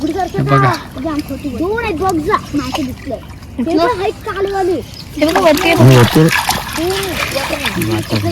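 Water splashing as a net is worked in deep water to catch shrimp, with intermittent splashes and drips heard beneath almost continuous close talking by people.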